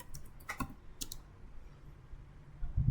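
Keys tapped on a computer keyboard to enter an IP address for a router gateway, a few quick clustered clicks near the start, then a quieter stretch with low background hum and a soft bump at the end.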